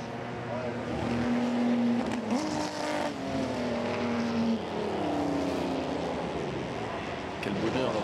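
Classic race cars from the 1950s roar around the Le Mans Classic circuit, engines rising and falling as they pass and shift, with a commentator speaking over the steady mechanical din.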